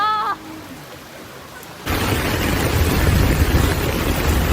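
Heavy rain pours during flooding in Seoul, South Korea, a dense, loud hiss of downpour that cuts in abruptly after a brief quieter stretch and then holds steady.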